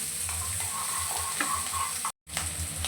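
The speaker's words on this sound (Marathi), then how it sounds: "इथे 7 ते 8 लसणाच्या पाकळ्या घेतलेल्या आहेत, त्या सुद्धा आपल्याला छान असा कच्चापणा जाईपर्यंत आपल्याला भाजून घ्यायचा आहे।" Seven or eight garlic cloves, with ginger, fry and sizzle in a pan for Kolhapuri misal while being stirred, a soft steady crackle with scraping, then a brief dropout before the sizzle resumes.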